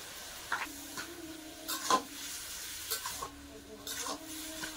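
Bottle gourd curry with chilli, cumin and coriander powders being stirred and fried in a pan, a quiet scraping sizzle with a few soft stirring scrapes, heard up close.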